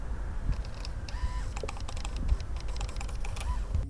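Faint clicking and whirring mechanical noises from a Sirui 40mm T1.8 anamorphic lens focusing, with a brief thin electronic whine, sit over a low background rumble at close range.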